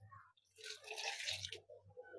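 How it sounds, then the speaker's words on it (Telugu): Water poured into a bowl to soak coconut pieces for hotel-style idli chutney, a soft splashing rush of about a second that rises and then trails off into faint drips. "దీంట్లో ఇప్పుడు మనం ఇవి ములిగేంత వరకు నీళ్లు పోదాం"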